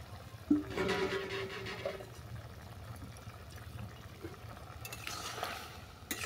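Fried shrimp stirred in a pan with boiled potato and cucumber over cooked-down tomato: soft scraping and stirring with a faint sizzle, and a few louder clatters near the start and end.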